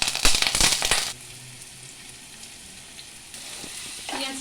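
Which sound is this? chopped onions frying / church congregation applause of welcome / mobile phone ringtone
chopped onions frying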